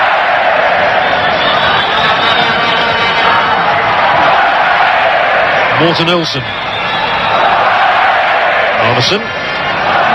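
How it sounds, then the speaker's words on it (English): A large stadium crowd roars at a 1986 World Cup football match between Denmark and Uruguay in Mexico, a loud continuous din under steady commentary with occasional louder whistles or shouts. "And the crowd revelling in this one."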